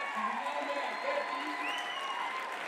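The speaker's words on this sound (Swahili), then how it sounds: "Makofi mazuri ya Deputy Governor." Steady, dense crowd applause for the Deputy Governor at a burial, sustained throughout with voices carrying over the clapping.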